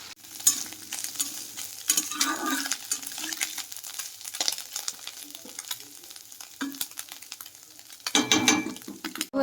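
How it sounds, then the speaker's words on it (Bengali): Small chuno fish frying in a pan, a close crackling sizzle with scraping stirs and clatters of a utensil, rising to louder bursts near the end, with no talk. "এখন রান্না বান্না শুরু করে দিয়েছি, মাছ ভাজা চলছে।"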